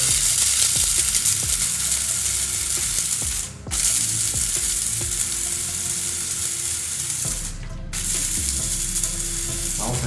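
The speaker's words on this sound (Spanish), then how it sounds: "Y aquí ya me lo hice en este molinito manual que tengo." A small hand-cranked grinder crushes coffee beans in a steady, loud, gritty rasping that runs continuously up close, pausing briefly twice before resuming.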